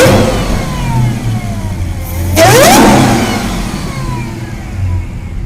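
A car engine revs with a deep, throaty exhaust, a continuous rumbling drone that swells and eases, with one sharp rising rev burst in the middle, heard close from inside the car.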